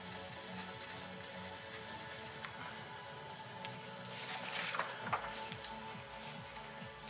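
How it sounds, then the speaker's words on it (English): Sandpaper rubbing across the protective anti-oxidation coating of an FR4 circuit board, a steady close scratchy hiss with continuous back-and-forth strokes, slightly busier near the end, no voices. "RF4 boards have a protective coating on it to keep it from oxidizing. So just a little bit of sandpaper."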